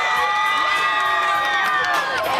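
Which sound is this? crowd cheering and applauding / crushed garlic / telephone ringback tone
crowd cheering and applauding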